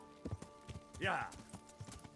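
Horse hooves clip-clop at a walk in the video game Kingdom Come: Deliverance, with a short whinny-like call mid-way, playing quietly beneath a man's speech.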